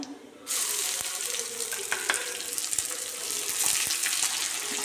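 Chopped shallots crackle and sizzle steadily in hot oil after mustard seeds have popped, a dense hiss that jumps in suddenly and holds close and loud, with a few sharper pops scattered through.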